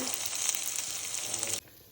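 Oil sizzles and crackles steadily as capsicum fries in a tempering of sesame seeds and mustard seeds, then the sizzle drops away abruptly near the end.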